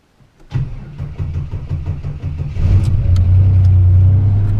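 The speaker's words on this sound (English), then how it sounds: "this is completely cold, doing a cold start on her" A 1986 Buick T-Type engine, left sitting for a week, cranks in a quick rhythmic whir, catches, and settles into a loud, rough idle close by.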